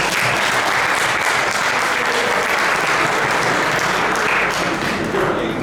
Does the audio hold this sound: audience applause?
yes